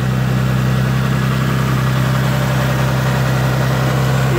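A Nissan Skyline R34 with an RB25 engine and 151,000 kilometers, set up as a boosted drift car, idles steadily close by with a deep, even hum and no voices.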